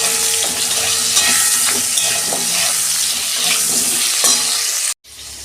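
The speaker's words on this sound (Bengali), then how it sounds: "আলু একসঙ্গে ভেজে নেব" Potatoes frying in a pan with a little salt, a loud, steady close-up sizzle with stirring scrapes, cutting off abruptly near the end.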